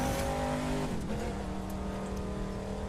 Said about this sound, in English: You can hear the engine struggling without traction control.